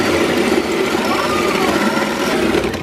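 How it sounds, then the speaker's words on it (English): A drill bores a hole through the firewall of a drag-racing car build, where the engine harness connector will mount, producing a continuous high whirring whine at close range with a faint voice in the background. "drilling a hole in my firewall"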